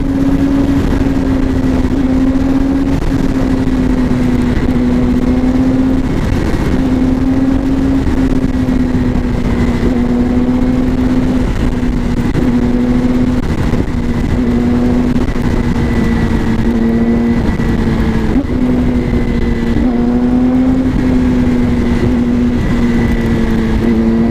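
Yamaha R6 sport motorcycle engine droning steadily while riding outdoors, a loud continuous hum with slight rises and dips in revs throughout, no talk over it.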